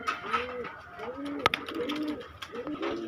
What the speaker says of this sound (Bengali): কবুতরটা মায়া কবুতর, একেবারে দুধের মতন সাদা, এক হাতের মতন সাইজ কবুতর